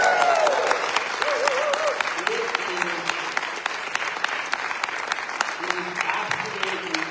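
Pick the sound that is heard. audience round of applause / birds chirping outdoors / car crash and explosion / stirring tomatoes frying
audience round of applause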